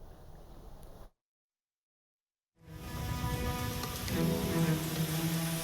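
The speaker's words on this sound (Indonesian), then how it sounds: "hujan deras yang terus mengguyur menyebabkan longsor di sejumlah titik" Heavy rain pours steadily in Ponorogo, East Java, as a dense, hissing roar. A faint stretch of noise comes first, then a silent gap, and the downpour returns louder with low rumbling underneath.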